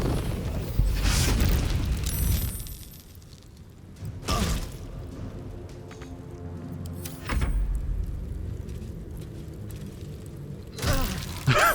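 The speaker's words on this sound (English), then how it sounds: "And we're going to light him on fire now." Fiery blasts from a fire attack in Baldur's Gate 3, setting an enemy ablaze: several loud booming bursts at irregular intervals over a low rumbling game background, with no talk.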